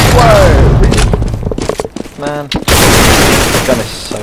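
Gunfire in Counter-Strike: Global Offensive, loud bursts of rapid automatic shots with booming impacts, broken by short pauses and a player voice talking over the action.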